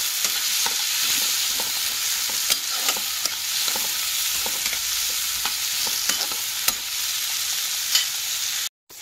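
Tomatoes fry in a pan with a little salt for a vegetable dal, a steady close sizzle running throughout with repeated scraping stirs on top, cut off abruptly at the very end.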